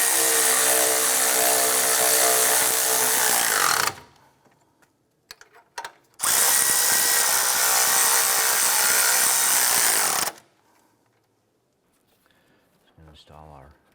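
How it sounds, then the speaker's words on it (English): A power tool drives down the radiator cooling fan motor bolts on a 2006-2013 Chevrolet Impala. It runs in two loud, steady bursts of about four seconds each, close up, with brief clatter and quiet between them. "Let's go ahead and tighten these bolts down."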